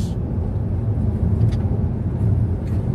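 A car passes close alongside in the neighbouring lane, a steady low road rumble and tyre roar heard from inside a moving vehicle, with no speech.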